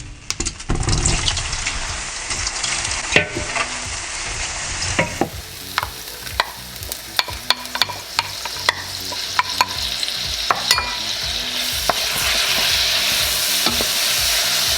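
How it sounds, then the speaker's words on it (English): Mushrooms and spinach sear in a hot dry skillet with a loud continuous hiss, broken by frequent sharp scrapes and clicks from stirring; no one talks. "This is why I enjoy doing a dry skillet char."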